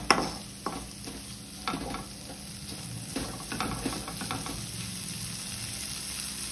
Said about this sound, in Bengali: একটা লাচ্ছা পরোটা কিনে নিয়ে এসেছি, সেটা তোমাদের দেখাবো ভাজাটা